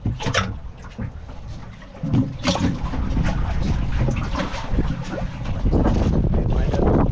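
Strong, gusty wind buffeting the microphone outdoors by the water on a fishing outing, a constant heavy roar with louder blasts and faint lapping water beneath.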